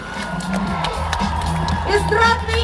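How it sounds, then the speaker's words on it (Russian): A large audience cheers, whoops and claps for the jury at the New Wave children's contest in Artek, Crimea, a dense steady roar of crowd noise with shouts rising near the end. "Аплодисменты нашему многоуважаемому жюри!"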